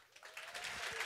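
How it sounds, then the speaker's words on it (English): Audience applause rising at an event honoring model builders, a broad even wash of clapping building over the short span, with a faint voice briefly heard beneath. "Let's have a real big round of applause for Gerard and Randy Taylor"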